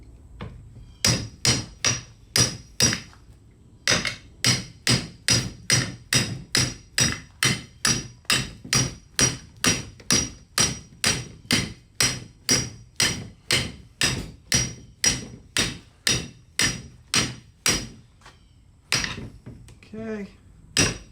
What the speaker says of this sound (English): start hammering this in